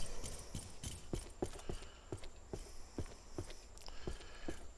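Footsteps from an Unreal Engine 4 asset whose sounds change with the surface walked on, a steady series of about a dozen distinct close steps in an even walking rhythm, fairly quiet, with no talk.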